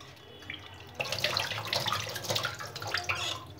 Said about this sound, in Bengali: ডিমের খোসার গায়ে অসংখ্য ময়লা ছিল, আমরা সেটা এখন ধুয়ে নেব